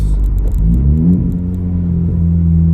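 Low idling rumble of a Honda Civic Type R FK8 engine warming up, steady and close with a slight pitch shift, a few light jingling clicks near the start.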